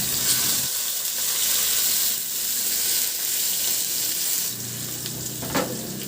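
Garlic sautés in hot oil in a pan, a loud, steady, close crackling sizzle with a brief stir or clatter toward the end, no voices.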